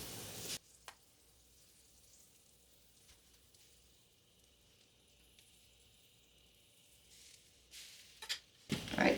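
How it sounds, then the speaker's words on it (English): A hot pan sizzles quietly and steadily while freezer pizza and French toast are prepared, a soft continuous hiss framed by louder kitchen clatter at the start and end. "Oh, listen to that sizzle. That's a hot pan"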